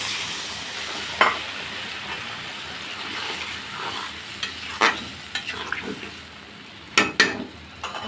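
Spice paste fries in a pan with a steady sizzle, broken by several sharp clinks and scrapes of stirring as water goes in to cook down, close and moderately loud.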